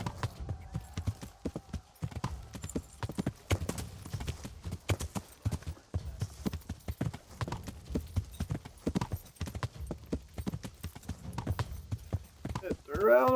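Horse hooves clip-clop steadily on a road in the video game Kingdom Come: Deliverance, a close, continuous rhythmic trot with a person talking over it.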